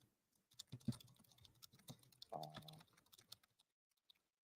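Rapid irregular keyboard clicks and clacks, quiet and close, in uneven bursts with short pauses and a few faint taps trailing off at the end.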